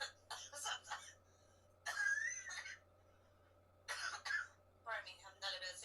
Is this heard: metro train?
no